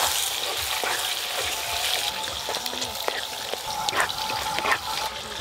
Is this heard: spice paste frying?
yes